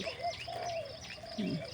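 Birds chirp and call outdoors at rice fields on a misty morning after rain, a few whistled notes and a low coo, moderately distant and gentle.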